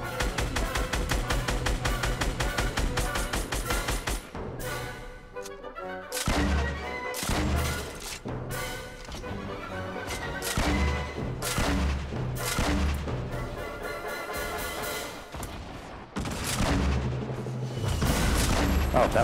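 Gunfire and explosive booms in Fortnite, dense and loud, with repeated bursts and heavy impacts layered over game music and effects, nearly continuous throughout.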